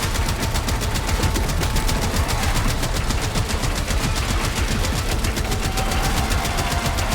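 Sustained rapid automatic gunfire in a video game, a loud, steady stream of shots firing continuously with no talking.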